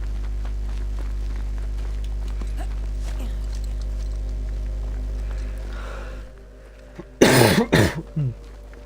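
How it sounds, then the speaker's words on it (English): A person coughs several times in quick succession, loud and close, after a stretch of steady game background hum and ambience from an intro scene in Banishers: Ghosts of New Eden. "I'm going to be having probably these coughs throughout the entire playthrough"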